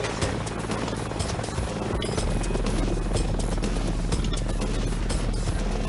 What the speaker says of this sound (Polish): mamy no, fajny śmigłowiec Black Hawk